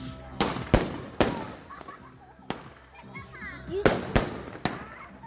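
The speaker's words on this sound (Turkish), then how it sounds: "Evet çok çok yüksek sesli işaret fişeği bildiğiniz." Very loud signal flares bursting outdoors during a May 19 celebration, sharp booming cracks going off irregularly, several in a few seconds, with people and children talking in between.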